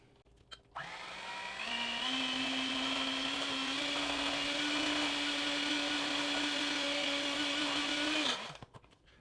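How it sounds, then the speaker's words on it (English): Electric hand mixer whirring steadily in a bowl of peanut butter fat bomb ingredients, starting up, then holding a loud, even motorized drone for about seven seconds before switching off. "then you're going to mix it up with the hand mixer"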